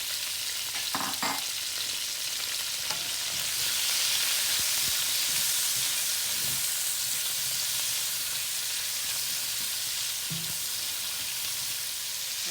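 Onion, scallion, thyme and garlic fry in a pan for a chicken breast stir fry, giving a steady close sizzle and hiss with a few stirring clinks and scrapes.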